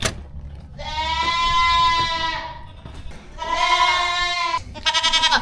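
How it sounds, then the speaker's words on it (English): Goats bleating at a farm feeding time, two long loud wavering bleats followed by a shorter one, close by with no talk. "let's go feed these goats and spread some fertilizer."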